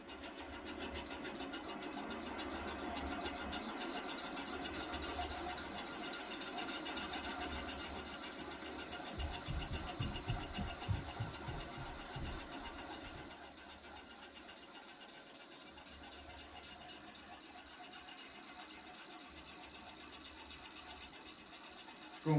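A prototype electromagnetic motor with an 8-magnet rotor spins with a continuous whirring hum and fine rattling, swelling louder for a few seconds midway before settling to a quieter steady drone.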